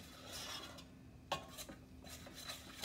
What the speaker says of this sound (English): Just keep it stirring